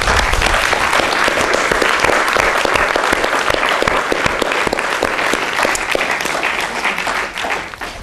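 An audience at a conference on living wills breaks into loud, prolonged applause, with dense individual claps in a steady roar that thins slightly toward the end.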